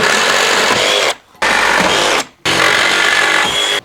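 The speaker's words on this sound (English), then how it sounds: "So I'm going to need to take my sawzall again and take this out." Reciprocating saw cutting through the wooden frame of an entry door opening, three loud, buzzing bursts of rapid blade strokes separated by brief silent pauses, close by and with no talk.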